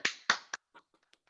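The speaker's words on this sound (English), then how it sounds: "Clap, clap, clap." Hand claps in a children's poetry workshop exercise: three quick, crisp claps in succession, close and fairly loud, followed by faint scattered taps.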